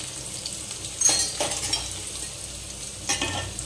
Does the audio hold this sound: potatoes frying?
yes